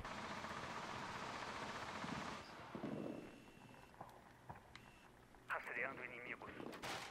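Gunfire in Rainbow Six Siege aimed at a camera, a few sharp distant shots and clicks popping out after a stretch of loud noise, with people talking over it.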